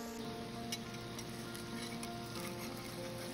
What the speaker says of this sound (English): Medium heat, sear and brown one side first. Then flip to sear the other side.